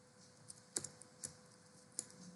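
A computer keyboard tapped in a quiet room: a handful of sparse, light key clicks spaced unevenly, with one small cluster of quick presses, faint and close.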